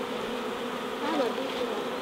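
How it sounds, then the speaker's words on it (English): A honeybee swarm fills the air with a steady, dense buzz, close and continuous, many bees in flight around the listener with no voices. "That's a lot of bees to be flying around me."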